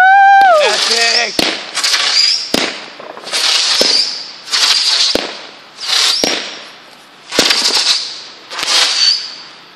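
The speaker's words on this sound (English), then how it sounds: "These are my fireworks." Home fireworks set off outside a house: a rising whistle followed by a string of loud, sharp bangs and crackling bursts, roughly one every second, close by and mostly alone, with brief cheering.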